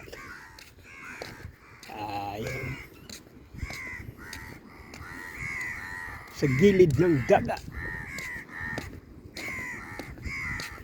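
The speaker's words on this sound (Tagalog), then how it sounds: "Daming uwak ko. Daming uwak dito." Several crows caw repeatedly in short bursts nearby while someone speaks, with soft outdoor ambience beneath, by the sea in Jizan, Saudi Arabia.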